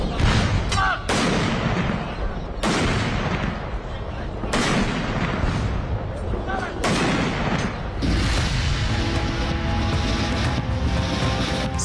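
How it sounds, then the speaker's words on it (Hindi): Cannon gun salute at an Indian military state funeral for CDS Bipin Rawat, with several loud, sharp booming blasts ringing out at intervals of a few seconds over a steady crowd and background murmur. "तोपों ने सलामी की तो सीना गर्व से चौड़ा हुआ"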